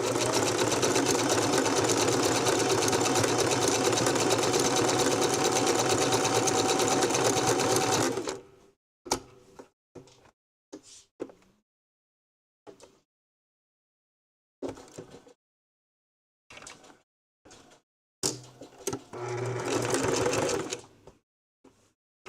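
A sewing machine runs a continuous straight stitch on a fabric-wrapped rope bowl for about eight seconds, then stops and gives several short, separate bursts of stitching with quiet pauses between them.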